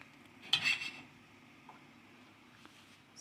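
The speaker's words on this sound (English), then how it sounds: "just heat the pan and a little bit of oil and just toss the shrimp" Shrimp tossed into a little hot oil in a pan give a brief, faint clatter and sizzle near the start, then a low quiet hiss fades under light background noise.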